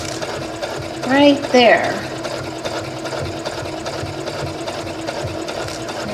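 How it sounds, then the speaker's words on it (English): A domestic sewing machine stitches darts straight down a line, its steady motor whir running throughout at close range, with a brief spoken remark near the start. "I'm just going to sew straight down the line"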